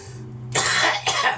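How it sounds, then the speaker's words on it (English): A man coughs from chilli heat while cooking a chilli dog, two harsh, close coughs in quick succession, the first longer, with no talk. "that cough means there is actual now some nice heat in that"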